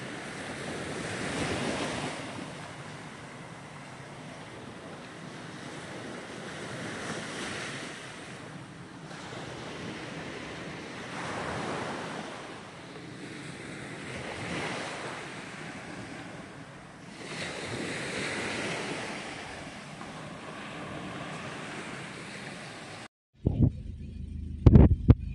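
Ocean waves washing onto a beach at Pulau Sayak, with steady surf rolling in swells and some wind buffeting the microphone, continuous and fairly near, ending abruptly in a brief burst of handling noise.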